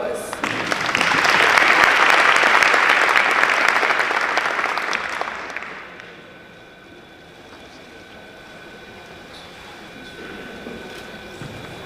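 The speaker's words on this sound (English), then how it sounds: "So please give them a round of applause." Audience applause at a youth entrepreneurship panel, a dense burst of clapping that fades after about six seconds, followed by quieter room noise and a voice speaking.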